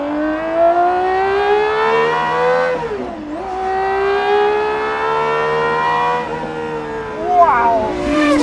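GMA T.50 engine revving as the throttle is opened, a loud, rising, whining howl with strong harmonics that climbs, dips sharply around a gear change, then climbs again and fades near the end.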